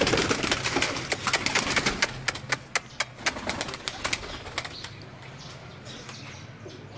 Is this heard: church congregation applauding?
no